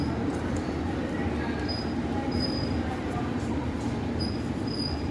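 Passenger train pulling into Thawe Junction on the New Delhi–Barauni route, a steady loud low rumble of rolling wheels and carriages with faint high squeals, continuous throughout.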